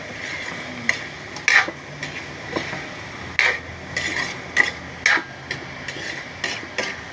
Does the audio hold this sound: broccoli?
yes